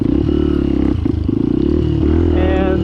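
A street motorcycle engine labouring up a steep muddy mountain trail, loud and close, with a throbbing, uneven drone that rises and surges, rattling and clattering throughout.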